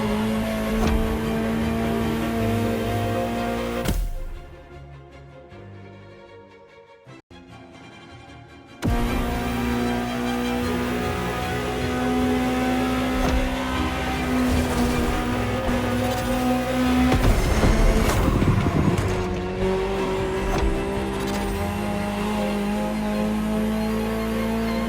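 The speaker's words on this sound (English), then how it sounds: "Just listen to the car you're driving." A Ferrari engine roars while driving in the racing game The Crew Motorfest, rising and falling through revs with a sudden drop to near silence midway before the strained, loud engine note returns and climbs again.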